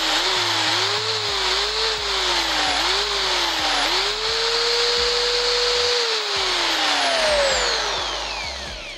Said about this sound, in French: Là, j'allume la perceuse.